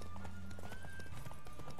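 Horse hooves clip-clopping along in The Witcher 3 video game, a quiet, steady trotting rhythm with a faint tonal game sound in the background.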